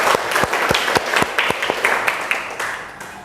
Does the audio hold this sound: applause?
yes